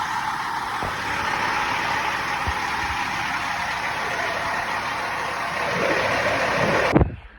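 A Peterbilt 379 truck, repaired after a major accident, runs with a steady mid-pitched engine drone as it backs off, holding even for several seconds and swelling slightly before stopping abruptly.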